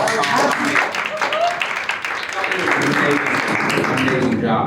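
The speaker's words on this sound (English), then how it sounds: "a little round of applause for Christy and BalancedComp." An audience at a finance compensation conference applauds, dense steady clapping that fills the room and holds at full strength the whole time before thinning slightly at the end.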